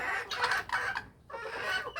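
Native breed hens on a small laying farm cluck in quick repeated bursts, close and fairly loud, with a short lull partway through before the clucking resumes.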